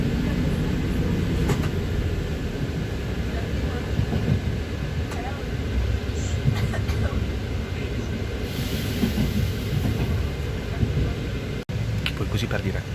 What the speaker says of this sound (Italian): questo treno è lo stesso treno che prendevo quando ero alle superiori per tornare a casa